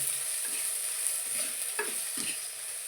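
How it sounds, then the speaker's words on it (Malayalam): Small onions sautéing in a pan for a Kerala sardine tamarind curry, a steady close sizzle with a few stirring scrapes and clinks, no voices. "ഇനി ഈ ഉള്ളി ഒന്ന് നല്ല വഴ വഴണ്ട് വരണം കേട്ടോ"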